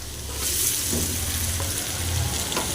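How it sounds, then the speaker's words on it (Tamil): Onions frying in a pan for a broad bean stir-fry, with a steady, close sizzle and a low hum underneath, fairly loud and even, no voices. "வெங்காயம் போட்டு வெங்காயம் நல்லா ஃப்ரையாக விடுங்க"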